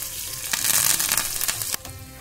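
Cumin seeds crackle in hot oil as chopped green chillies and curry leaves are tipped in for a dhokla tempering, a loud, dense sizzle and spluttering close by that drops sharply near the end.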